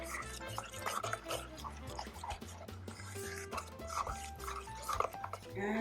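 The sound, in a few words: stirring marinade with dill and parsley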